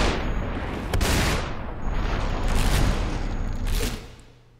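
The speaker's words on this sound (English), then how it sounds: "I'm already being shot at." Gunfire from the video game SUPERHOT sounds as several sharp, booming shots with long swooshing tails, spaced about a second apart, loud and close before fading at the end.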